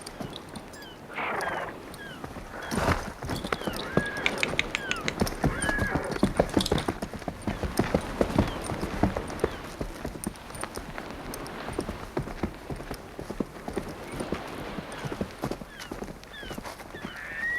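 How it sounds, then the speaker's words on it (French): Horse hooves clip-clop in a steady, uneven rhythm on hard ground near a bay where a boat is arriving, moderately close, with faint background sounds and a brief whinny-like cry. "Mon cheval!"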